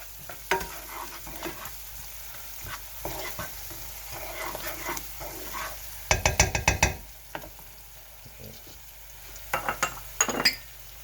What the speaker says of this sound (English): I'll stir it in, stir in the flavors.